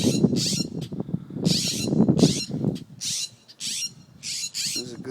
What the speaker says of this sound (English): And the mama and daddy bird aren't happy.